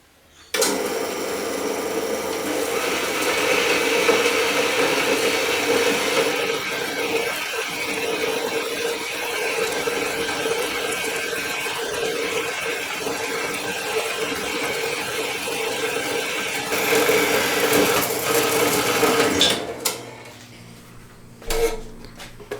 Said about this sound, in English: what I'm going to do is cut the point off with the bandsaw